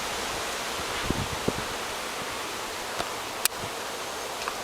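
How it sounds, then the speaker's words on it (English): Strong wind blowing outdoors near a beehive, a continuous broadband rush with a few brief knocks and rustles, steady and fairly loud with no voices. "It got really windy today"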